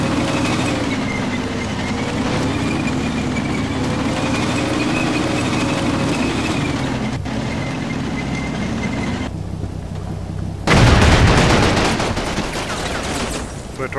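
Machine gun fire in the Combat Mission war game, a steady rumble of distant automatic bursts under constant train-like mechanical drone, ending in a louder, harsher close burst near the end.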